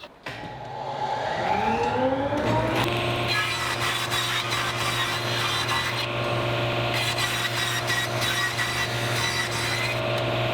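A power saw spins up to a steady whine, then rips a wooden board to thickness for a garden gate, with a continuous rough cutting rasp over the motor hum, close and loud.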